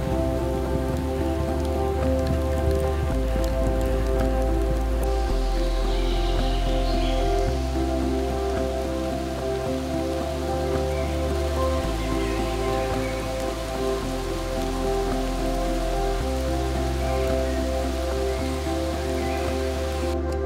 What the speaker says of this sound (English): It just started pouring down.